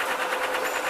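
A 35 kg hot wind centrifugal dryer with a stainless steel body and cast iron base runs with a steady, loud, high whirring hum and a faint rhythmic pulsing, heard alone up close.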